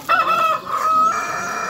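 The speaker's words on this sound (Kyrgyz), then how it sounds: "Мына монда короосу бар экен." A rooster crows at a poultry market in Bishkek, a single loud, close cock-a-doodle-doo with a long held final note and clucking birds faint behind it.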